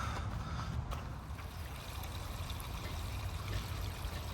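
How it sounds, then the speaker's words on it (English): Fresh water drains from a boat's water tank in a steady, continuous trickling and gushing flow, close by and unbroken, without talk. "Let's drain it."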